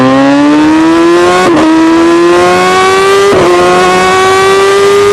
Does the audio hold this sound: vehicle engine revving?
yes